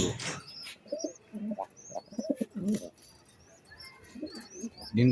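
Racing pigeons coo and chirp in short bursts among scattered bird calls, with people talking close by throughout.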